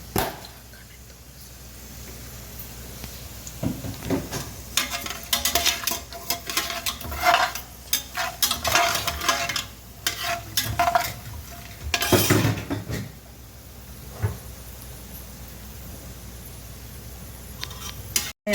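Pan tempering of mustard seeds, urad dal, chana dal and a little cumin in oil, with bursts of sizzling and popping mixed with clinks of a spoon stirring against the metal pan, heaviest in the middle, under occasional talk.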